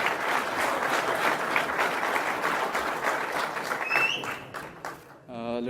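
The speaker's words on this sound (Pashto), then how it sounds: "تودې تودې چکچکې وکړي" An audience at a Pashto poetry gathering in Köln, Germany gives dense, sustained applause that fades out, and a voice begins speaking just at the end.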